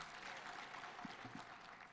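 Applause for Governor Sang at an outdoor political gathering in Nandi County, Kenya: a fairly faint, continuous patter of clapping from a crowd, with a few sharper claps standing out.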